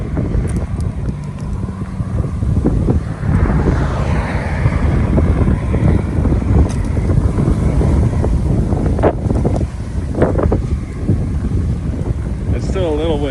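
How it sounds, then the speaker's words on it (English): Strong, near-hurricane-strength gusting wind in Willard, Utah roars and buffets the microphone continuously, with a rumbling, rushing texture throughout. "It's still a little windy. It's not as windy as it was."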